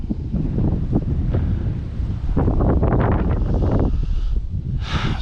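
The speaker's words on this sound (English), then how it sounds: "That's how windy it is." Strong gusts buffet the microphone at Royal Palm Park fishing pier in Florida, a loud, rumbling roar that swells and surges throughout, with water and surf noise mixed beneath the blasts.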